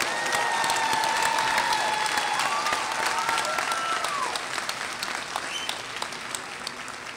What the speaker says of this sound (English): let's have one more round of applause for the master's graduate.